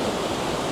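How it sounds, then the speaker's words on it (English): A strong river current in Scotland, at a spot where salmon jump, rushes in a steady, loud, close wash of water with no talk over it. "You can hear how strong the water current is here."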